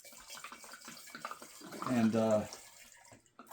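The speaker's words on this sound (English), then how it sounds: "So I'm just going to pour a little bit off into this 1 gallon jar" Homemade wine splashes and gurgles as it is poured into a one-gallon glass jar during racking, a short steady pour partly under a man's speech.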